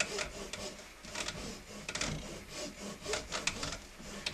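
A hand saw cuts through a wooden dowel in rapid back-and-forth strokes, giving a continuous rasping, scratchy sound with a steady rhythm at close range.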